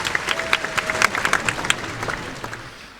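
An audience at a Kerala music event applauding, a burst of many hands clapping at moderate distance that fades toward the end.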